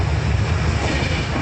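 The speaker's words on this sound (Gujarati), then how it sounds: "જો ટ્રેન ચાલુ થઈ ગઈ છે" A train leaving for Delhi from Sabarmati railway station rumbles along with a dense, continuous low roar, heard close and loud from on board.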